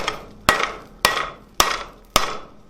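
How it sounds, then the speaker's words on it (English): Four evenly spaced hammer blows on hot steel while forging a coal shovel, each a sharp ringing strike that decays before the next, close and clear with no talk. "You just want to hammer straight down to start creating these pockets."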